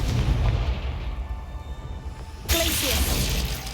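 A Confringo fire blast spell from Hogwarts Legacy: after a low rumbling stretch, a sudden bright, crackling burst hits and lingers with hissing, sizzling decay.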